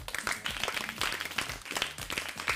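Audience applause at a children's studio show, a dense run of quick claps and patters lasting a few seconds, close and fairly loud.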